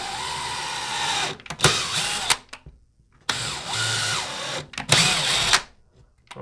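A power drill bores test holes into a wall to locate a stud, two sustained whirring runs with rising and falling pitch, each ending in a brief bite and stop, close and loud.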